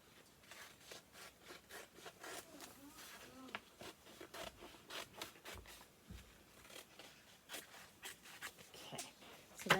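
Scissors snip and rub through paper while a shape is cut out, a run of small close crisp cuts that is quiet and irregular, with no speech.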